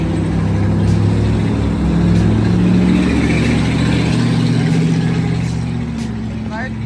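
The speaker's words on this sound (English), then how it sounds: "Loud truck." A loud truck rumbles past in a city street, a heavy, continuous low engine roar that stays strong throughout and eases slightly at the end.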